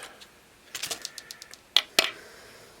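Scissors snip a narrow strip of thin black skin at a fly-tying bench, a quick run of small crisp clicks followed by two sharper close cuts, alone and clear.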